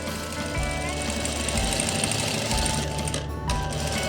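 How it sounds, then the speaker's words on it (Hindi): Sewing machine stitching a gathered frock or kurti, a steady close mechanical whir running continuously with brief pauses and restarts, loud and alone without talk. "देखो ये मैंने सिलाई इधरली साइड चलाई, जिस साइड मैंने दबा को किया है"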